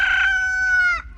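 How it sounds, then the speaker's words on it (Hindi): A rooster crows in a village at dawn, one long, loud, near cock-a-doodle-doo that holds a steady pitch and then cuts off abruptly, heard alone with no talk. "देखा आपने, मुर्गा भी अभी बांग दे रहा है"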